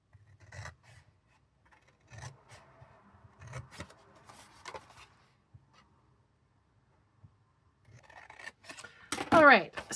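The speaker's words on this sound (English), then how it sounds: "we're going to cut up on all the score lines now" Scissors snip through Stampin' Up! cardstock along score lines, a few quiet cuts spaced apart, ending with a louder rasping cut at close range, with no talking.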